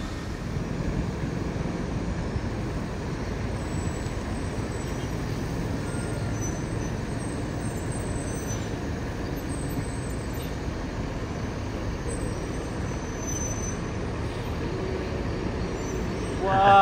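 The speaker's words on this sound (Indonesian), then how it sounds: "Wah, masuk bus Mior yang menggunakan bodi Skylander R22." A Mior bus with a Skylander R22 body, fitted with air brakes, gives a steady, loud diesel and road rumble that runs without a break, with no distinct brake hiss standing out.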